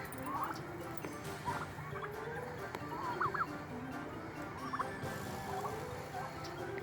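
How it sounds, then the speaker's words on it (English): Turkeys at a farm coop gobble in short repeated bursts, several calls rising close by over a low, steady outdoor background. "Look at my turkeys. Look at my turkeys. I love my turkeys."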